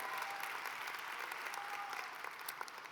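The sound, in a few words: audience applause at a ceremony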